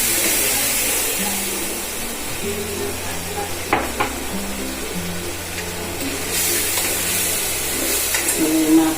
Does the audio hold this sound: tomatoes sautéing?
yes